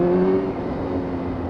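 A Yamaha YZF R6 motorcycle engine with a stuttering fault runs at low revs, a close, low mechanical drone that starts as a firmer tone and then fades into a rougher, uneven hum.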